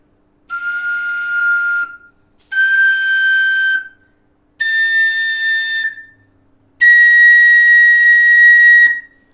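Four sustained, bright piping high notes on a Thai flute, each held about a second and a half with short gaps between, sounding alone and fairly loud.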